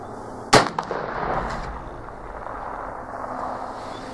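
A single sharp shot from a Tingle .44 pistol fired off a rest, loud and close, followed by a quick echo and a quieter ringing tail.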